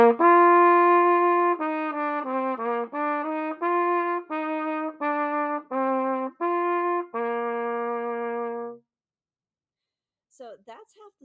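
Solo trumpet plays the second line of a beginner lesson tune at forte: a run of sustained, bright notes with short separated phrases, ending on a long held tone, followed by silence and a faint brief noise.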